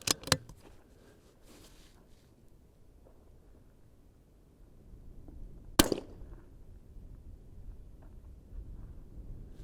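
Shots from a Vudoo Gun Works V-22 rimfire rifle on an extended-range rimfire outing at a 400-yard range, two sharp cracks near the start and a single sharp crack midway, with quiet outdoor ambience between.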